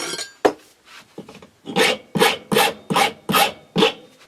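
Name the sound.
filing a nail to make a pressure flaker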